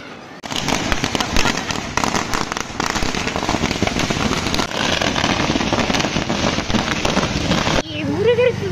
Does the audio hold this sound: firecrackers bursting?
yes